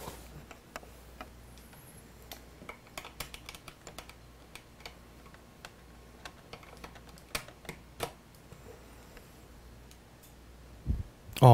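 Typing on a Zemmix Mini MSX computer keyboard, with irregular light key clicks tapping steadily throughout and a denser cluster of clacks at the end, all close and fairly quiet.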